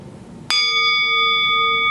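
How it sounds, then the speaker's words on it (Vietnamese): A single struck bell rings out loudly and clearly, its bright metallic tone sustaining and slowly fading after a sharp strike, heard alone without speech. "Quý vị nghe chuông chưa?"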